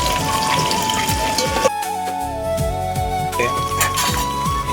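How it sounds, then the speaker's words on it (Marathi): Onions and masala fry in a pan for chicken rassa, giving a steady, loud sizzle like rain on a surface. Background music plays throughout, and the sizzle does not break. "आता फ्राय करून घेऊ."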